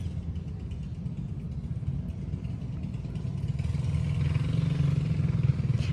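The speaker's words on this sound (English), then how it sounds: "See, now there's a motorcycle." Motorcycle engine passing outdoors, a rumbling mid-pitched drone that grows louder and closer over several seconds.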